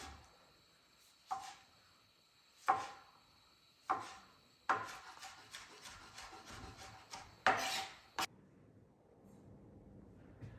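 Knife chopping tomatoes on a wooden board for pico de gallo: a slow series of sharp, close cuts spaced about a second apart, then a quick flurry of chops, in a quiet kitchen.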